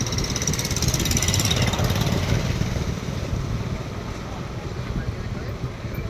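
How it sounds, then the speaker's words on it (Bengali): A boat loaded with bricks travels along a river, a constant low engine drone blended with wind buffeting the microphone, fairly loud and steady throughout with no talking. "নদীর মধ্যে এক নৌকা ইট ভর্তি করে নিয়ে যাচ্ছে"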